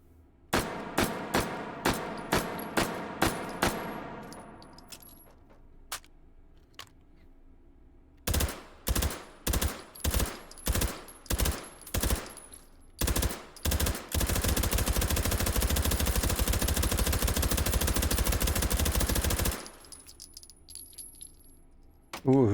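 An H&K MP5K submachine gun fires inside the VR game H3VR: sharp single shots and short bursts ring out, followed by a long sustained full-auto stream, then a brief pause and another shot.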